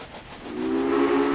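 Steam train whistle in the railway management game Railway Empire, a steady tonal blast that rises in loudness over a faint background rumble and holds through the end.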